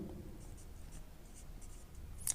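Chalk or marker writing on a board during a physics lesson, short scratchy strokes in quick bursts, fairly faint over room noise.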